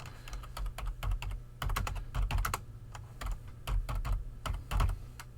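Steady typing on a computer keyboard while entering text into a box in design software, close and clear, with irregular bursts of keystrokes and brief pauses, no talking.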